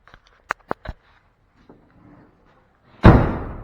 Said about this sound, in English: Door shuts pretty good, so that's fine.